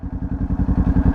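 A motorcycle engine runs at low revs while the bike slows to a stop, with rapid rhythmic low thumping pulses from the exhaust, close and moderately loud, and no voices.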